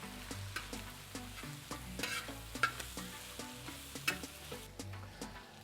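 Serrano peppers fry in a discada pan while being stirred, giving a steady close sizzle broken by repeated scraping and clinking strokes of a utensil against the metal, with no voices.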